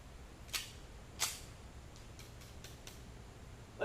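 Gunshots fired at a backyard mailbox, two faint sharp cracks about half a second apart followed by several softer distant pops, heard from a distance over low outdoor ambience.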